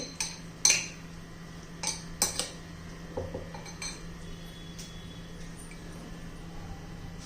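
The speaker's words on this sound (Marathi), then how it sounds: "आता मी तवा गरम करण्यासाठी ठेवते." A flat tawa griddle is set on the stove to heat: a few sharp metallic clanks and clinks near the start, then quieter scattered taps over a low steady hum.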